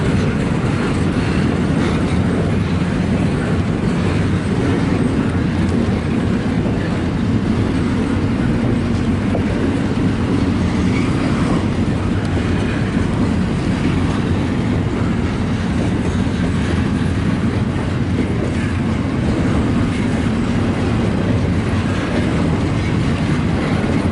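A CPKC freight train with new containers rolls past, bound from Montreal's St. Luc Yard to Edmonton, giving a loud, continuous rumble with steady clickety-clack of wheels on rail joints and faint wheel squeal throughout.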